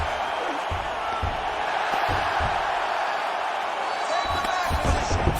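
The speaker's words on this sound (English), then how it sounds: "huge pop from the crowd as the fighters get back up to their feet" A PS5 UFC fight crowd roars in a broad, steady wash of cheering that swells near the end, with scattered thumps underneath.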